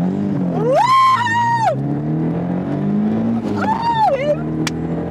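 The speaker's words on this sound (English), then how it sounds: "Oh, listen to that engine." A car engine revs hard while accelerating up a drag strip, rising in two loud, sweeping surges with a pause between them, heard from inside the car alongside excited voices.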